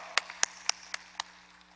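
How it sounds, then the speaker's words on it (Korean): At a Sunday church service, hands clap in thanks to God. Five sharp, evenly spaced claps ring out, quiet and slightly roomy, over a low electrical hum, then stop. "오늘 은혜 주신 하나님께 미리 박수로 감사합시다"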